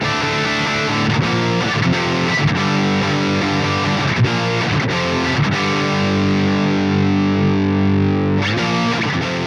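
Heavily distorted electric guitar chords played through a Bogren MLC SubZero 100 tube amp with EL34 tubes, loud and sustained, with a few brief stops and restrikes.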